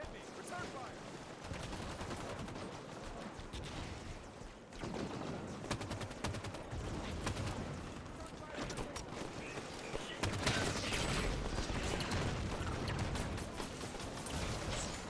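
Gunfire in the video game Halo 5, with repeated shots and bursts crackling through a dense, busy game mix that stays fairly quiet overall, with continuous background action and no clear pauses.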